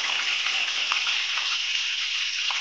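Green chillies sizzle in hot oil with cumin seeds and mustard seeds, giving a steady, close frying hiss with small crackles and pops scattered through it and no voices.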